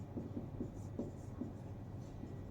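Chalk or marker scratches across a board while writing out the term for potential difference in a physics lesson, in faint rhythmic strokes over steady room noise, with no talking.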